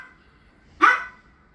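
A single short, close dog bark rings out once against a quiet indoor background.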